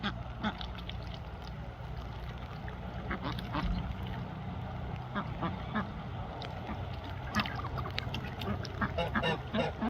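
Male mallard-type drake with a green head making raspy, hoarse calls instead of quacks, repeated short bursts over a low steady background hum near a water tank on a farm.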